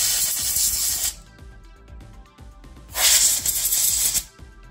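Compressed air blasts out the removed cooling fan of a Dell 5300 2-in-1 laptop in two loud, hissing bursts, each about a second long, separated by a quiet gap with faint handling noises.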